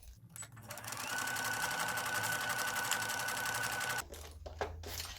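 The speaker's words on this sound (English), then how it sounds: "So take it to your sewing machine." Sewing machine running a regular straight stitch along the seam of a fabric snack bag, a steady fast whirring rattle lasting about three seconds, then stopping into a few soft clicks and handling noises.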